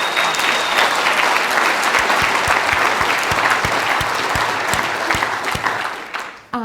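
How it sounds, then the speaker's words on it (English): A conference audience at a monitoring talk applauds a speaker, with loud, steady clapping from a full room that runs for several seconds and then stops abruptly. "Can we have a round of applause for Jason just right now?"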